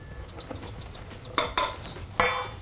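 Cake batter of sugar and flour being stirred in a bowl, a few distinct clinks and scrapes of the utensil against the bowl standing out over a quiet background, with no talking.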